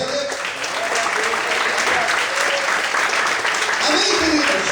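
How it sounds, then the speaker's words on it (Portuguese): A church congregation claps and cheers in praise of God, loud, dense and sustained across the whole stretch, with crowd voices mixed into the applause. "Você pode aplaudir a Deus?"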